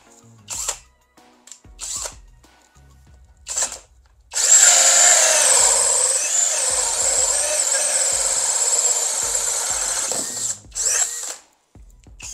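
FortG brushless drill boring a hole, a loud steady whine of about six seconds, with short bursts and handling clicks before and after.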